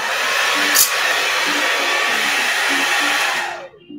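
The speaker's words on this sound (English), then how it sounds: "just take your blow dryer" A blow dryer runs steadily with a loud, continuous broadband whoosh to dry paint on a canvas during a sip-and-paint session, then cuts off near the end with no talk over it.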